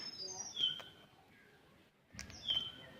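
At a beach, birds give a few sharp, high chirps close to the microphone: a quick burst early on, then a pause and two more calls near the end over faint background noise.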